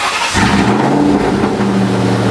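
Cobra car engine running loud at a high idle with a steady, rough mid-range roar that swells slightly and holds throughout, close by and with no voices over it.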